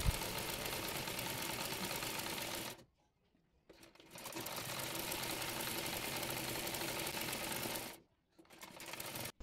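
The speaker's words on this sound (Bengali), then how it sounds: "এরপর বোতাম পট্টির কাপড় সেলাই করে নেব।" Sewing machine stitching the button placket fabric of a blouse, running in long steady bursts with two short pauses between runs.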